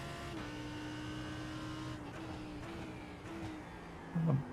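A Lamborghini Huracan GT3 EVO race car drones on track at Oulton Park in iRacing: a steady engine tone holds and shifts pitch slightly, then gives a short louder surge near the end, heard alone without talk.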